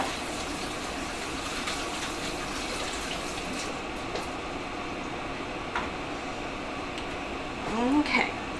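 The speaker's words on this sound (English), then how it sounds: "Now, time to wash hands again." Hands washed under a steadily running kitchen tap while preparing rotisserie chicken, a continuous close gush of water lasting several seconds with a faint splashy shift near the end.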